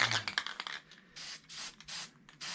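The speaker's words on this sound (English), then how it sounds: "I'm just going to spray paint it." Short hissing bursts of an aerosol spray can, several quick sprays in a row with brief pauses between them.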